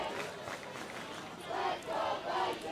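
Football crowd at a high school game between Triton and Newburyport, a steady roar of spectators that swells louder twice, heard from a distance with no clear talk over it.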